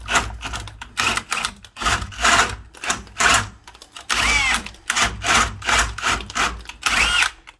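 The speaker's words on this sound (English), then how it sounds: "7/8 spade bit. Now here, I don't want to drill all the way through." A 7/8 spade bit bores a shallow hole into a wooden slab door, grinding in repeated rhythmic bursts with brief pauses between, close and fairly loud.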